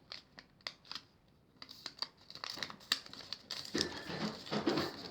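Origami paper is folded and creased by hand close up, with quick crisp crinkles and taps that grow into a denser, continuous rustle toward the end.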